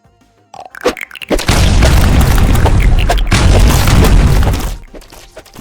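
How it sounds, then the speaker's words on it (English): Explosions in a Unity video game, built with particle effects: a sharp onset swells into a loud, sustained booming rumble with crackling debris that holds for several seconds, then tails off abruptly. "at least we now finally have explosions"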